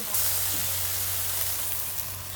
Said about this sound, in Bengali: মাছ দিয়ে দিলাম মাছটা আমি ভালো করে কষাই নিই